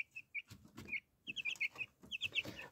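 Young chickens in a village coop cluck and peep in quick bursts, close and fairly quiet, with repeated short calls overlapping through the moment and no talk.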